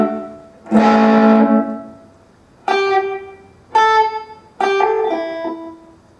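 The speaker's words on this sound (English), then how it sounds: "Pretty nice reverb there." An electric guitar rings through an XVIVE Maxverb reverb pedal, with one strummed chord and then three single plucked notes. Each one blooms loudly and trails off in a long, smooth reverb tail.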